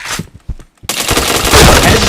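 Rapid automatic gunfire in a first-person shooter game, a few sparse shots followed by a sustained loud burst of continuous firing.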